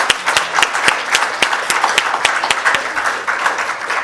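Steady applause from an audience, many hands clapping densely and evenly at a constant loudness throughout, with no voices rising above it.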